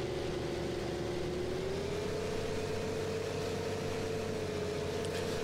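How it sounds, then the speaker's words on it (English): A tractor engine in the farming video game Farming Simulator 15 runs steadily at a moderate, even pitch that rises slightly and then holds, a continuous mechanical drone at modest level with no talk. "this tractor makes a great noise"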